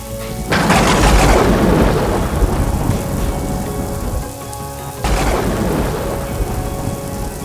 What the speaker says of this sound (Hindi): बहुत तूफानी बारिश हो रही है